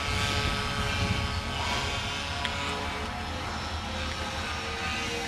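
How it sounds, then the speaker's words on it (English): Engines of a Catalina twin-engine aircraft at an airstrip, a steady, loud, droning propeller roar that holds continuously without a break or any voices. "So if you want to fly the Catalina, it's best to get into twin engine flying first"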